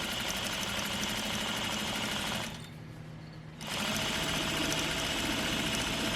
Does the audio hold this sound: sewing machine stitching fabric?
yes